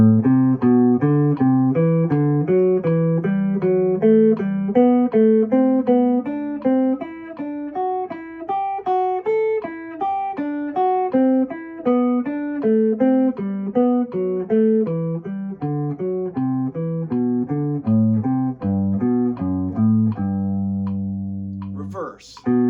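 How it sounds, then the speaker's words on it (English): A guitar plays a scale in thirds with a metronome set to 80 BPM, an even run of paired notes rising and falling for about twenty seconds. A short pause and a brief new sound follow near the end. "Here I have the metronome set at 80 BPMs, and I'll give you an example of my thirds going ascending up and down the scale first"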